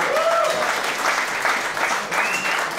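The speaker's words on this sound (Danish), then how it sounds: "Klap lige på det, klap på det." Steady applause fills a 50th birthday party, a crowd clapping continuously for the whole stretch at close range, with no pause or break in the sound.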